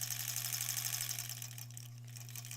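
A sewing machine runs steadily, stitching together quilt scrap pieces for a granny-square quilt, with a fast, even mechanical whir and a constant low motor hum throughout.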